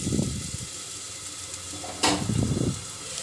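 Potatoes frying in a pan with onion and ginger-garlic paste, a steady moderate sizzle with two bursts of stirring, close and without talk.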